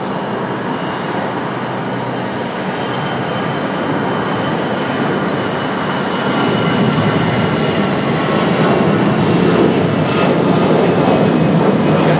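American Airlines jet airliner taking off at Raleigh-Durham airport, its engines a broad steady roar that swells gradually louder as it powers down the runway, heard from a distance with no talk.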